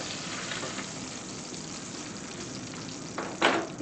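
Steaks sizzling in brown butter in a hot pan, a continuous crackling fry at moderate level, with a brief louder burst of spatter near the end.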